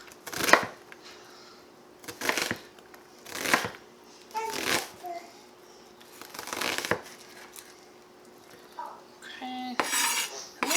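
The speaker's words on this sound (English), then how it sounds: "go into the onion like that, and then we just make little slices here" Knife dicing an onion on a cutting board, a series of sharp, close chopping taps in uneven clusters separated by short pauses, with faint clinks and no talk over them.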